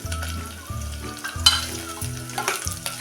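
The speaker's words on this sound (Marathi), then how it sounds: "त्यात आता टाकूया ही पिळून काढलेल्या कारल्याच्या पोळी" Squeezed bitter gourd and onion frying in a pan, a steady sizzle broken by several clanks and scrapes of stirring, close and moderately loud with no talk.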